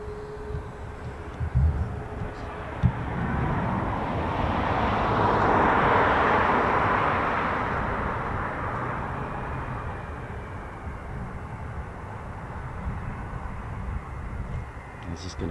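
A US Air Force C-5M Super Galaxy military transport aircraft, a broad jet roar that swells to a peak midway and then slowly fades, heard under people talking.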